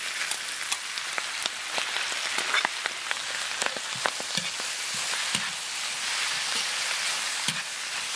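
Soybean sprouts, wood ear mushrooms, egg and sliced meat stir-fry in hot oil, giving a steady sizzle with frequent sharp crackles and pops, plus occasional scraping stirs close by.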